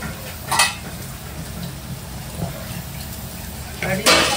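Onions cooking in a pan as Kokani red masala is stirred in, giving a steady low sizzle with a few scraping clatters of spoon against pot, while a person talks over it.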